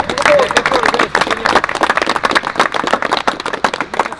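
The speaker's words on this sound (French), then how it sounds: "vous pouvez vous applaudir parce que... Bravo." A group of rugby players at a training session applaud themselves, a dense burst of many hands clapping at once that stays busy and close for several seconds, with voices talking over it.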